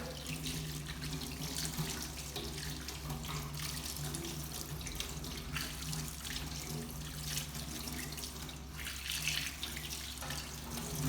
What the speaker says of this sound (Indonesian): Lalu bilas dengan air mengalir.